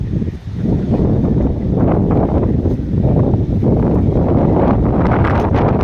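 Strong gusty wind raising dust, a loud continuous roaring rush buffeting the microphone and surging in waves throughout with no voices heard.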